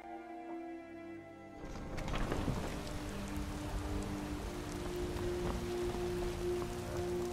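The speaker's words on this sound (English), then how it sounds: "Hopefully the rain stops." Rain falls in Skyrim, a steady broadband patter that swells in about a second and a half in and then holds evenly, with a faint sustained tonal hum beneath it and no voices.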